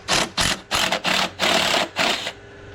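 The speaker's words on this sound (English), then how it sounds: "Go ahead and remove these screws." A power driver backs out T25 Torx screws on a 2021 Chevy Blazer in short, close whirring bursts, about six in quick succession, with no talking.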